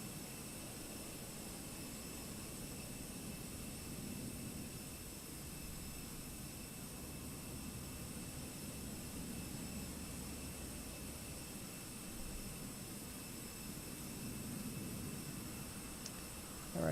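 Jet airliner engines in Microsoft Flight Simulator 2024 idle at Oslo before taxiing, a faint, steady whine and low rumble holding evenly throughout with no talking.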